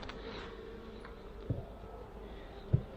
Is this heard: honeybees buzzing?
yes